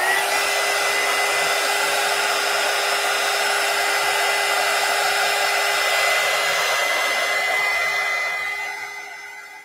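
A hair dryer runs steadily and loudly for several seconds, drying paint on a steampunk collage box, then begins to wind down near the end.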